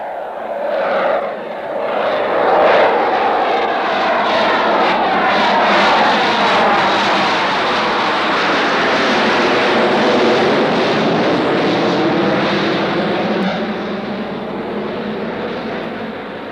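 Engines of a TWA airliner on a flight to Rio, a loud steady drone with a slowly shifting, wavering tone that holds for the whole stretch before easing off slightly near the end.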